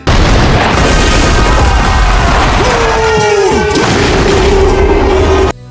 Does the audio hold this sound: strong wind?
no